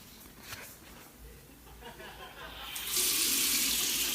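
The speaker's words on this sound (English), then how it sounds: "That's the water going on." Water from a tap starts to run, rising from a quiet murmur into a loud, steady rushing stream after a few seconds of faint background.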